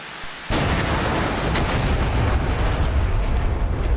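Heavy cannon fire and a blast erupt in a jet combat game, a sudden loud onset followed by a dense, rolling barrage of rapid shots and booms that sustains for several seconds.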